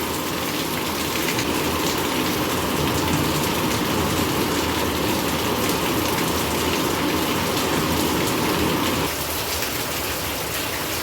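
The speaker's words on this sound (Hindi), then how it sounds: "भाई हमारे घर का देसी शावर है ये।" Water pours steadily from a makeshift homemade shower in a continuous, loud, splashing gush that drops slightly in level near the end.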